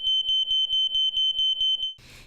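A household smoke alarm sounding during a test-button press, a rapid series of about ten shrill high-pitched beeps in even rhythm, close and loud, ending with a short rustle.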